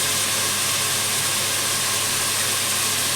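Onions for a vegetable biryani fry in hot oil with a loud, steady hiss and sizzle that fills the whole stretch without pause.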